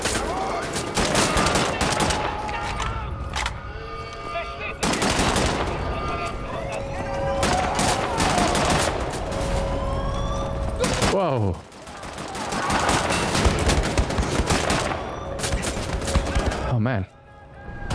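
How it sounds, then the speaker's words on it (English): Sustained heavy gunfire in the shooter Wolfenstein: The New Order, dense volleys of rapid shots and explosive bursts filling nearly the whole stretch with only brief lulls, voices mixed in among the shooting. "It's like just shooting frenzy."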